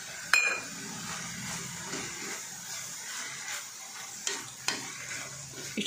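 Chopped tomato fries in oil with baby eggplant, a soft steady sizzle with occasional utensil clinks and stirring scrapes against the pan, fairly quiet and close.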